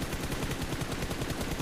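Sustained automatic gunfire spray in the mobile shooter PUBG Mobile, a dense rapid stream of shots running loud and continuous with no talk over it.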